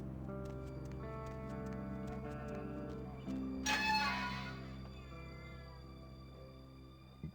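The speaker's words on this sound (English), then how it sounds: "That was a cat sound." In the video game Vampire: The Masquerade - Bloodlines, a cat gives a short meow midway through a steady ambient hum of game background music and drone.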